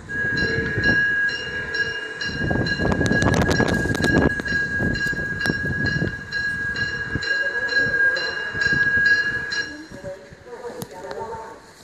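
A Korean Mugunghwa passenger train hauled by a diesel locomotive pulls into a platform at Jeonju Station, with rhythmic wheel clatter over rail joints, a steady high whine and a public-address announcement over the top.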